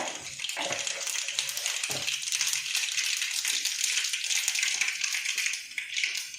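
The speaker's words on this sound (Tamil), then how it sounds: "கடுகு வெடிச்சிருச்சு." Dense, crackling spatter of tiny pops over a steady hiss as mustard seeds burst in hot oil, continuous and fairly close with no talking.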